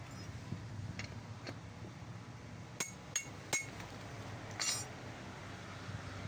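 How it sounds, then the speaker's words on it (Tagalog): Metal hammer strikes drive down the spin tub coupling of a washing machine, several sharp isolated knocks with a ringing clink over a low background hum. "basta magpapasok lang dito sa coupling tapos pupukpukin lang natin pababa"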